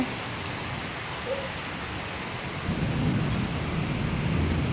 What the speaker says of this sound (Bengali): দেখুন বন্ধুরা কেমন বৃষ্টি শুরু হয়ে গেছে গরমে